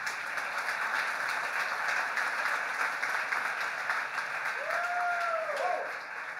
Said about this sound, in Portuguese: Aplaude-se.